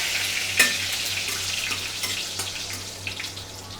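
Poha frying in a pan at home, with steady crackling sizzle and occasional stirring scrapes, close and moderately loud, alone without talk.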